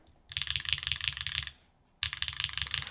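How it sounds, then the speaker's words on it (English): Typing on a Manta keyboard with an aluminum plate, Gateron Type R switches and Kikobo keycaps makes two close bursts of rapid, crisp clacking keystrokes separated by a short pause. "Typing test right now."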